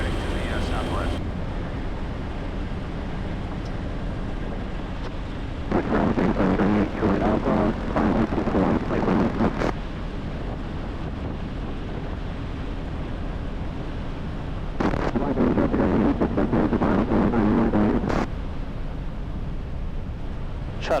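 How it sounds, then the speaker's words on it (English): A Piper Super Cub light aircraft's engine drones steadily, rising to louder bursts twice, with radio-like voices talking over it. "yellow Super Cub departing the pattern heading to the southwest"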